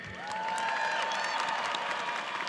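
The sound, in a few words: audience applauding and cheering at a commencement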